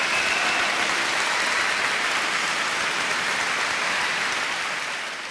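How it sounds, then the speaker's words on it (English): Sustained applause from a large crowd, a dense, even roar of clapping that holds steady before easing slightly at the end. "Applaud yourself."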